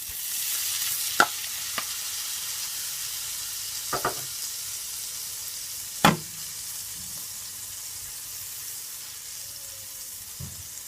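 Butter with garlic and ginger sizzling in a pot on the stove, a soft continuous sizzle punctuated by a few sharp clinks and taps of a utensil against the pot.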